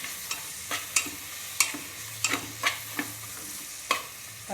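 Chopped medium tomato stirred in a frying pan for a pressure-cooker biryani, with repeated sharp scrapes and clacks of the spoon at an uneven pace over a soft continuous sizzle, close and alone.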